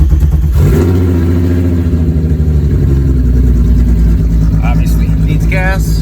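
A Volkswagen GLI engine cranks and catches after sitting unused, then settles into a steady, close, loud idle with light revving, and a person speaks briefly near the end.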